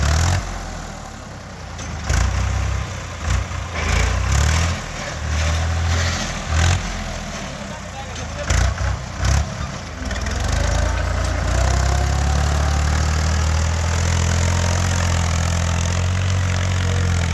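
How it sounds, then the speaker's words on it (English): A tractor engine runs on a farm during field preparation, a loud, steady low rumble that surges in short bursts early on, then settles into a continuous heavy drone. "there was a lot of noise from the tractor"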